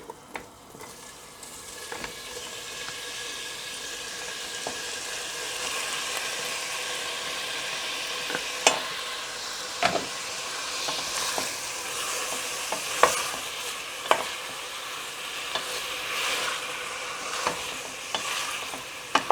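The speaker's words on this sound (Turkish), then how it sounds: "Her tarafı yağlanana kadar şöyle bir karıştıralım." Drained eggplant pieces stirred in hot oil in a pan, a steady close sizzle broken by repeated scraping clacks of a utensil against the pan, with no talking.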